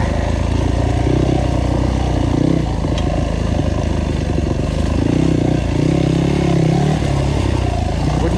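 A GAS GAS EC250F enduro motorcycle engine drones steadily and loudly throughout while being ridden, with its pitch rising and falling as the throttle changes, alongside some clattering.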